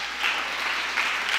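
Church congregation applauding during a sermon, a short continuous patter of many hands clapping at an even level, filling the room without speech on top.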